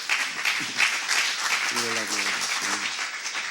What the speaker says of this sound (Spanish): Dele un fuerte aplauso y puede tomar su asiento.